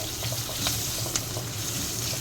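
Spices and finely chopped chillies crackle and sizzle steadily in hot oil as a tempering for sev khamani, a close, continuous frying hiss with small pops and occasional stirring.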